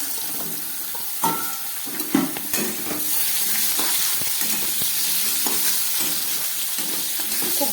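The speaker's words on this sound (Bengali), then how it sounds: "চিংড়ি মাছ ভাজার গরম তেলের মধ্যে আমি দিয়ে দিচ্ছি কালো জিরে ফোড়ন, আর দিয়ে দিচ্ছি কেটে রাখা কচুরলতি।" Chopped taro stolons and black cumin seeds hit hot oil left from frying shrimp, making a loud, continuous sizzle broken by sharp clatters of stirring.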